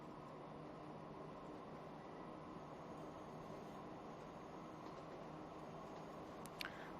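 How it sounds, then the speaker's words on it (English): A train running in the Transport Fever video game, heard as a steady, even mechanical rumble that holds at one level throughout, with a faint tick near the end and no voices. "we'll get this train running here again"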